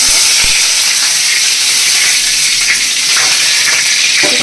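Loud, steady hissing sizzle of curry leaves hitting hot oil, close up and continuous, with faint crackles throughout.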